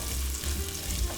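Ginger sizzling as it fries in a hot pan for a shrimp and coconut milk dish, a steady soft crackle over a brief moment, with no voice.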